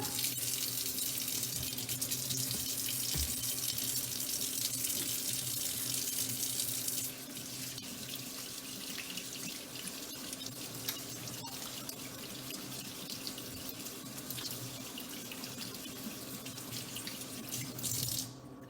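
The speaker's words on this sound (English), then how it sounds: "there's a sink and soap right there if you want to wash your hands" Tap water runs steadily into a sink for hand washing, a continuous rushing splash that drops slightly in level partway through and then holds, with no talking.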